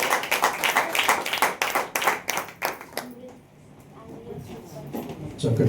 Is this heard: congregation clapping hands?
yes